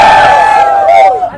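A crowd at a railway station gathered for the inaugural Jodhpur–Ahmedabad Vande Bharat run cheers and shouts in one loud, sustained collective roar at night that fades toward the end.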